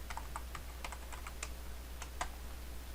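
A password is typed on a computer keyboard, giving a quick, uneven run of about a dozen light key clicks, close and faint above a steady low hum.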